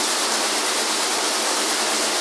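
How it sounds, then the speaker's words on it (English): Water runs steadily from a shower head, making a continuous, loud, even hiss with no voices. "so we're gonna turn the water on to see what happens"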